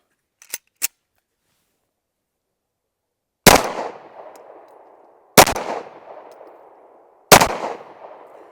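Caracal Enhanced F pistol firing Winchester steel case ammunition at a range: three loud, sharp shots spaced about two seconds apart, each with a ringing outdoor echo tail, after a couple of faint clicks at the start.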